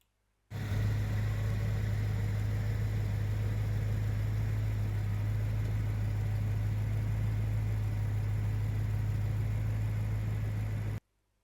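A BMW M3 engine idling steadily, with a strong low hum and an even, unbroken drone that runs for about ten seconds close to the microphone, with no talk.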